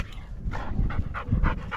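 A dog pants rapidly and heavily up close, quick rhythmic breaths repeating without pause.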